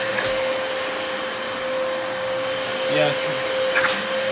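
A Dyson DC33 Multi Floor vacuum cleaner runs at full suction, a steady loud whirring drone with a high whine held throughout, as a voice speaks briefly over it.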